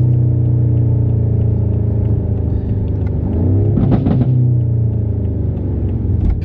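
A 2018 BMW M5 engine holds a deep, steady idle rumble, then climbs in pitch through a single rising rev before settling back to a loud, close drone.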